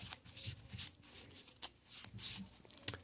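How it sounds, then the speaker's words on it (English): Sleeved Magic: The Gathering cards in Pro Mat sleeves are shuffled repeatedly at close range. The soft riffling swishes come in a quick, even rhythm, with no talking. "So when you're shuffling, it has a nice glide."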